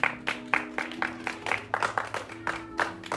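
A church congregation claps in praise of the Lord, with steady rhythmic bursts of applause on roughly every beat, filling the room at moderate loudness with a low hum of voices beneath.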